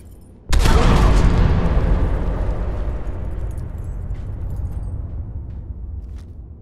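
Improvised thrown explosive detonating in Fallout 4 at the Corvega plant, a sudden loud close blast followed by a long rumbling decay that fades over several seconds.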